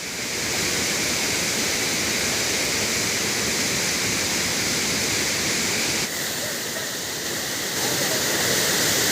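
A swollen stream in the Sahyadri forest hills pours toward a high waterfall, giving a loud, unbroken roar of rushing water that fills the whole stretch, briefly dipping once before surging back.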